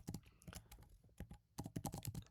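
Someone types a short query on a computer keyboard, a quick run of crisp key clicks in two bursts with a brief pause between, fairly close and alone.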